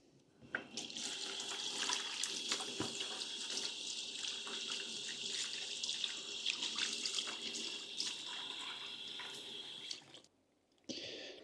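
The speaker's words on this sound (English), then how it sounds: "Let's give them a little rinse." Squid being rinsed under a running kitchen tap, a steady broad splash of water into a sink for about ten seconds, briefly cutting off near the end before flowing again.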